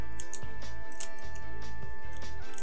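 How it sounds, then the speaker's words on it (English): Computer keyboard keys clack loudly and rapidly in irregular bursts during play of Sonic 3D on a Switch emulator, close up over a steady game soundtrack hum and tones. "My keys are so loud."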